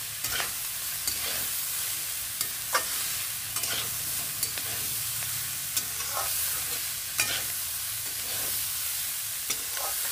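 Radish fries with small shrimp in a covered pan, a steady moderate sizzle broken by regular scraping taps of a spatula every second or so.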